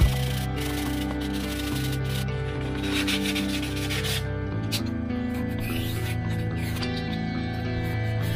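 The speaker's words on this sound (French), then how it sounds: "Je vais poncer mon bord d'attaque." Sanding the leading edge of a Depron foam wing for a model Pitts biplane: a steady, continuous rubbing abrasion close by, running unbroken for several seconds under a constant hum.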